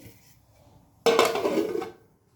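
A plate set down as a lid on a pot of water heating for mutton biryani makes one sharp ceramic-on-metal clatter with a short ringing rattle, close and loud against a quiet room.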